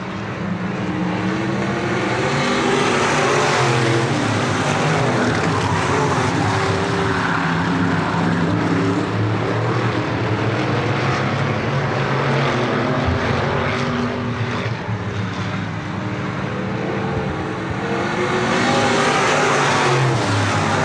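Stock cars race in a pack around Thunderbird Raceway, their engines making a loud, continuous roar that swells and holds steady as the field passes close by.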